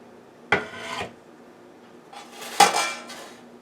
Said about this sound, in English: So now I'm going to put the coffee cake in the pan.